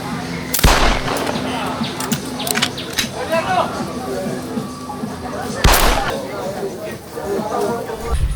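Two loud, sharp gunshots ring out several seconds apart, over a background of murmuring voices and shuffling.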